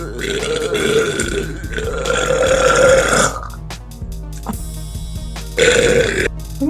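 A girl burps loudly several times, long drawn-out belches with short pauses between them and a final shorter burp near the end, close and alone.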